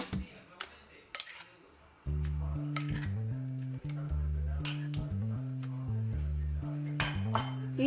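Utensils clink and scrape against a bowl while banana cake batter with mashed bananas and prunes is stirred, in repeated light taps under steady background music.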